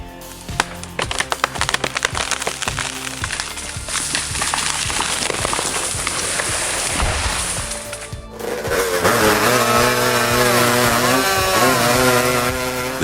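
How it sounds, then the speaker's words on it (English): A powerful chainsaw cuts down large trees, loud and close, first with choppy bursts and revs, then after a brief drop settling into a sustained high-pitched buzzing whine under the cut. "this guy had no difficulty using the powerful saw to cut down large trees"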